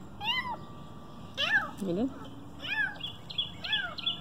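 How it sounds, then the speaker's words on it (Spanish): A cat meows repeatedly in a garden, several rising and falling calls wanting food, close and clear, while someone speaks briefly between them. "Ese gatito quiere comer."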